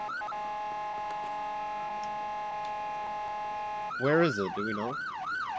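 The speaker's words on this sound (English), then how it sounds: "I'm following the alarm." A wailing emergency alarm siren in a roleplay driving video game, Hillview County RP, holds steady tones and then rises and falls in loud sweeping cycles near the end, with players talking over it.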